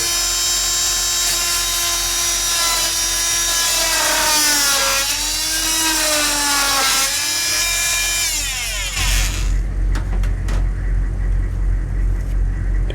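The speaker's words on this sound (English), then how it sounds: "Here's the Dremel." A Dremel rotary tool whines steadily at high pitch, its tone dipping and rising as it bites into material, then cuts off into a lower hum and clatter toward the end.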